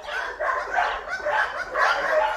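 Spaniels bark and yip in quick overlapping bursts, close and fairly loud throughout, with several dogs sounding at once.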